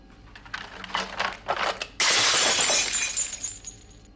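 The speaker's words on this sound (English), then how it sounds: "Watch out for the broken glass." Glass shatters loudly in a domestic scene during a family quarrel, a sudden bright crash that follows several sharper knocks and clatters, then sprinkles and settles over a couple of seconds with no talk.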